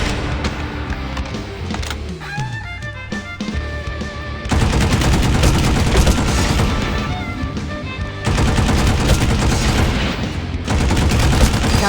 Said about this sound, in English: Take them out using your rocket launcher or light machine gun.